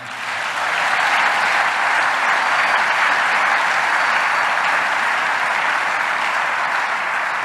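A church congregation applauds during a sermon, a dense, even clapping that swells in quickly and holds steady for several seconds with no voices over it.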